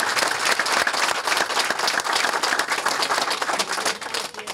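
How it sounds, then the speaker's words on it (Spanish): Community members at an outdoor gathering in Chacón break into loud, sustained applause, dense clapping continuing steadily throughout with no speech over it. "quiero un fuerte aplauso para él también."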